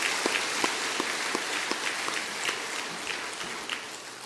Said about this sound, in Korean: 큰 박수로 우리 격려하겠습니다